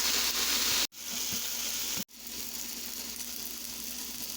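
Homemade ground sausage sizzles and crackles in a pan, a steady close hiss of frying broken by two brief cuts, with no voices.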